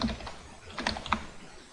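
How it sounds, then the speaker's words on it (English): Random text and a wrong email address typed on a computer keyboard: a quick, irregular run of light key clicks with a few sharper taps, close and alone with no talk. "typed in stuff here, just random stuff, typed in a wrong email address"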